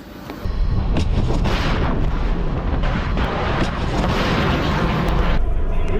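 A dense, sustained roar and rumble like a missile launch from a Russian warship, a Zircon missile, rises abruptly and holds loud and continuous with crackling blasts throughout.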